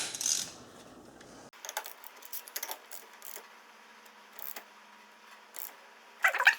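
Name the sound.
3/8 torque wrench tightening a 17 mm nut on a Kubota tractor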